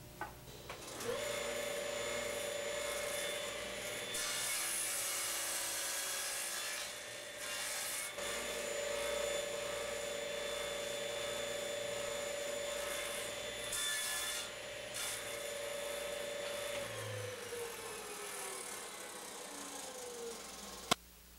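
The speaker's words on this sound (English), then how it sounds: "And then I'll make each cut, flip the leg, make a second cut, third cut, and fourth cut to shape that pyramid at the top." A machine cuts a wooden bedpost leg, making the four cuts that shape a pyramid top for an Arts and Crafts panel bed. It gives a steady, loud whirring grind through the cuts, then winds down near the end.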